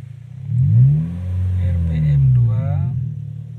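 A car engine revs up and eases back down in two smooth swells during a driving lesson on an uphill start, followed by a brief voice near the end.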